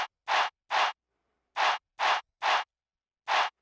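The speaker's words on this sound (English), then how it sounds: "We have this main crowd chant sample here." Crowd chant sample from a trap drum kit, short noisy bursts striking in a rhythmic pattern with clean silence between hits, dry and punchy with no other sound.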